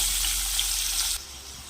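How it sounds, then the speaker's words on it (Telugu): Chopped onions hit hot oil for a dried prawn and egg curry, making a steady, loud broadband sizzle that softens abruptly partway through. "ఇప్పుడు ఇదే ఆయిల్లో ఉల్లిపాయలు వేసేసుకోవాలి."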